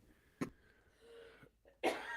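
A single sharp cough, followed by a soft breathy sound and then a second, louder cough, close up with no talking.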